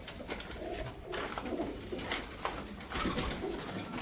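Pigeons coo on a farm, soft repeated cooing close by over a constant background hum, with no speech.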